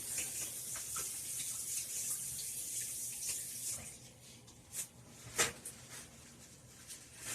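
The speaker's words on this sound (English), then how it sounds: "I'm just washing it off really quickly." Tap water runs steadily into a kitchen sink as a spatula is rinsed during cake baking, a soft continuous hiss with a few small splashes and clinks near the end.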